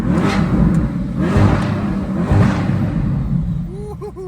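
A stock Chevrolet Corvette C8 with its 6.2-liter naturally aspirated V8 revs hard inside a tunnel, three loud surging exhaust pulls echoing off the walls before the engine settles as a voice whoops in excitement.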